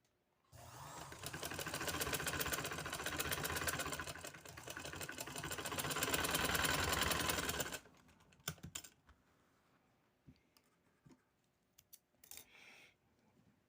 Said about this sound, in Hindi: सिलाई को हम यहाँ कर देंगे